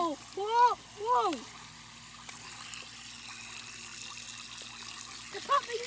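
Water rushing from a garden hose into a Bunch O Balloons water balloon cluster, a steady close hiss and splash, with brief vocal sounds rising over it early on and again near the end.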